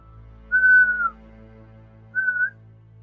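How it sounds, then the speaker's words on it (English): Two sharp, loud two-finger whistles, one longer then a shorter one after a pause, piercing and alone over a low background hum. "puts 2 fingers into his mouth and whistles hard"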